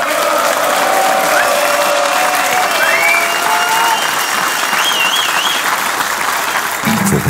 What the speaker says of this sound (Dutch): Ik wil een applaus voor Captain Garib geven.